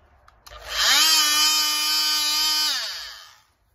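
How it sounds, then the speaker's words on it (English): A Dremel rotary tool spins up and cuts through the pins of a Mustang GT grille emblem, one loud, close, high-pitched whine lasting a few seconds before winding down. "And just cut right through it around the sides of a couple of the pins"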